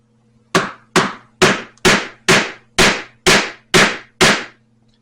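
Nine sharp, evenly spaced hammer blows strike a rounded metal punch through leather being cut into button slots for a fitted sheet holder, each crack close and loud with a short ringing decay over a faint steady hum.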